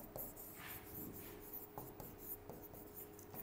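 A pen scratching across paper while antibiotic names are written out by hand, soft close strokes in short irregular bursts over a quiet room.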